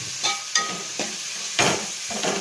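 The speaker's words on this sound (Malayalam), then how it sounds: "കുറച്ച് നേരെ ഇളക്കണം ഫ്രണ്ട്സ് അപ്പം തക്കാളിയും കൂടെ നല്ലപോലെ ഒന്ന് വഴണ്ട് വരട്ടെ" Chopped tomatoes sauté in a pan for Kerala-style egg curry. A spoon stirs and scrapes in several quick, close strokes over a constant soft sizzle.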